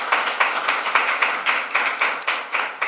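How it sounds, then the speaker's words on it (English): An audience applauds at a panel event, giving steady, dense clapping that carries through the whole stretch with rhythmic surges. "So if we can clap for Akili one more time for this amazing work."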